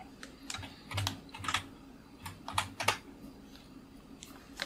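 Computer keyboard typing in short irregular bursts of sharp clicks, fairly close and moderately loud, during a Stardew Valley Expanded gaming session, with no talk.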